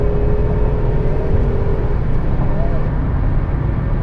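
A 2003 Buick Regal GS pulling hard at highway speed, steady loud road and engine roar with wind rush filling the whole stretch, a faint rising whine threading through early on.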